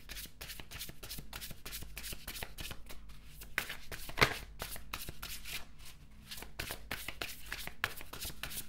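Tarot cards shuffled by hand for a reading, a close, continuous run of riffling, slapping card sounds with a sharper snap midway, quiet and alone without voices.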